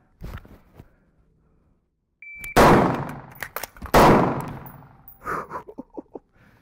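Pistol fire at a shooting range: a few close, sharp reports ring out after a quiet pause, with two loud blasts followed by a quicker run of shots and clanking.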